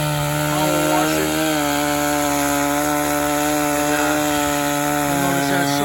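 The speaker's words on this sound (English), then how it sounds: "Gonna cut a tree here. New Husqvarna." A new Husqvarna chainsaw cuts into a tree, a loud, steady, close buzzing drone that holds at high revs throughout the cut.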